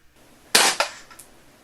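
A WE G36C airsoft rifle fires a single shot through a chronograph, making a sharp, close pop that fades over a brief mechanical rattle and then goes quiet.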